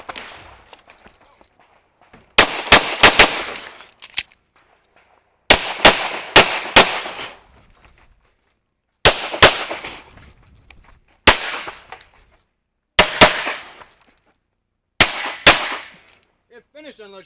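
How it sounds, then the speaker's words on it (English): Pistol gunfire on a stage of an IDPA state championship match, including steel targets, heard as seven loud close bursts of rapid shots separated by quiet pauses, some with sharp metallic pings. "It required you to shoot to 11 rounds to avoid a standing reload, and that included shooting a steel activator and a moving target."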